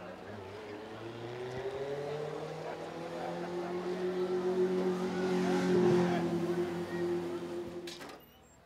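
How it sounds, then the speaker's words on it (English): A Legends race car does donuts in turn one at Southside Speedway. The engine drones steadily with rising and falling revs, swelling toward the middle, then cuts off near the end, heard from a distance under faint crowd noise. "Donuts for you in turn number one."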